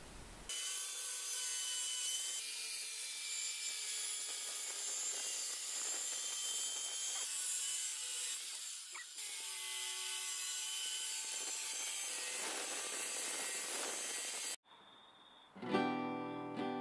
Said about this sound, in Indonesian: kita akan potong plywood kita dan dia punya tulang-tulang dengan menggunakan ukuran yang ini